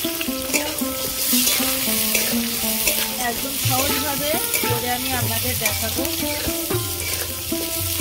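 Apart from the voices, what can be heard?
potatoes frying in onion-flavoured oil in a wok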